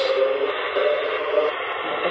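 A Huff Paranormal SCD-1 spirit box sweeps through sound bank B, giving a loud, continuous radio-like hiss and warble with brief fragments flickering past and no clear speech.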